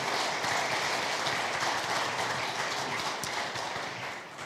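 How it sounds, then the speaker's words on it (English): An audience at a city State of the City address breaks into sustained applause, a dense, steady wash of many hands clapping that fades slightly toward the end. "Another round of applause"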